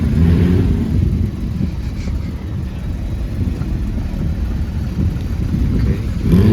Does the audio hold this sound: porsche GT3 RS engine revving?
yes